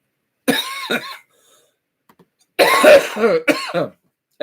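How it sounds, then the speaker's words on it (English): Several sharp coughs in two clusters, close and fairly loud, separated by a short quiet gap. "if on cue, I cough"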